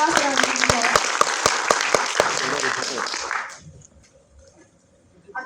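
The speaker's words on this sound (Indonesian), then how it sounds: "Berikan tepuk tangan teman-teman untuk Bapak Sumardi Wijaya." Audience applause for Bapak Sumardi Wijaya as he is invited to the front at a public speaking session, loud sustained clapping mixed with voices for about three and a half seconds before fading out, then near silence.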